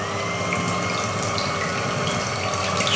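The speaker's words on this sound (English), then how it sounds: "Now I'm going to use an electric whisk." An electric whisk beats egg whites for a chocolate mousse, giving a steady, close whirring drone that runs unbroken for the whole stretch with no voices.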